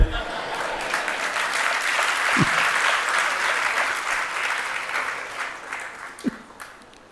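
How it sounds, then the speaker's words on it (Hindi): An audience at a Hindi religious discourse claps steadily for several seconds, a dense mid-level wash of applause that swells and then tapers off toward the end. "आपने दूसरे बार में तालियां बजा दी"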